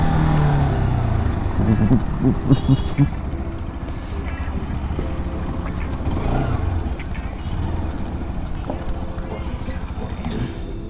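A Bajaj Pulsar RS200 motorcycle rides into a garage in Malappuram, its engine a steady loud rumble through most of the stretch, easing off toward the end, with a voice talking over it.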